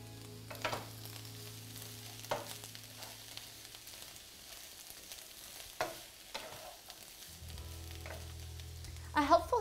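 Vegetables sizzling in a pan for a vegetarian stir fry, a quiet low sizzle under occasional stirring scrapes and clinks, with a brighter clatter at the very end.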